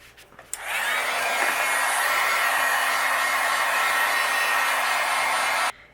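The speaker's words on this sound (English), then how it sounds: "then I will melt it with my heat gun" A heat gun melting white embossing powder blows with a steady, loud whooshing whir, starting after a faint click and running evenly for about five seconds before cutting off abruptly.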